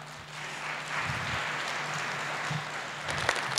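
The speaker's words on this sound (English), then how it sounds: "So your applause for Mike Schuster," Audience applause greeting a speaker named Mike Schuster at a machine learning talk in Moscow, a soft, steady patter of clapping from a seated crowd lasting a few seconds at moderate distance.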